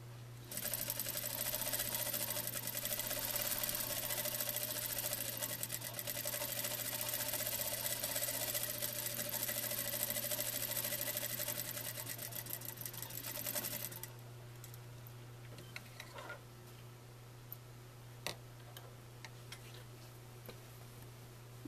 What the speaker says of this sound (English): At our sewing machine, we're going to stitch down our hem